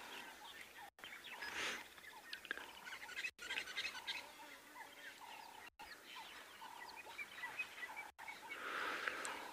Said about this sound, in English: Just enjoy the sounds of the hippos, the birds.